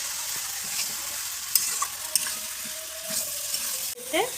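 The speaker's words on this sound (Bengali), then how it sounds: "কাবলি ছোলাটাকে পুরো গ্রেভির সাথে মিশিয়ে নেবে।" Kabuli chickpeas are stirred into a gravy in a pan, a steady low sizzle broken by several scraping strokes of a spoon, moderately close, with no talk.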